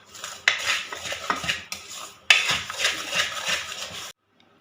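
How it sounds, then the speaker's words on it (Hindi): A metal spoon stirring and scraping besan ladoo mixture with sugar in a pan, two bursts of brisk clattering strokes with sharp clinks against the pan, ending in silence. "अब इसको जल्दी जल्दी चम्मच चला के इसको इकट्ठा करना है बिल्कुल"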